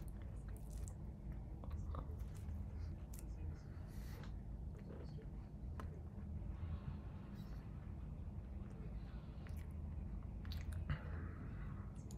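Close, quiet biting and chewing of a carrot-cake-flavored Pinkbox donut, with soft squishy mouth sounds continuing throughout over a low background hum.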